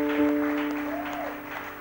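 Applause from a church congregation, steady and moderately loud, with a sustained tone and some background noise underneath.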